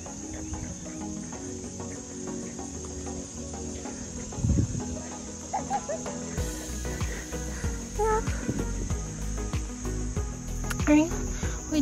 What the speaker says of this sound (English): Those little frogs are going to town.